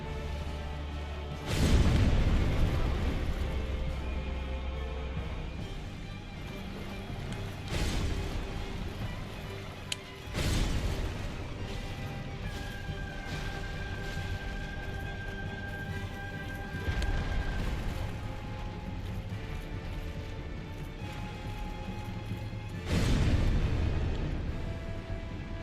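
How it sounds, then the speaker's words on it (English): Booming explosion attacks from a boss in the Dark Souls 1 finale, several heavy blasts spaced many seconds apart, loud and near, with quieter ambient rumble and whooshes in between. "It's like this explosion move I can never figure out how to properly dodge."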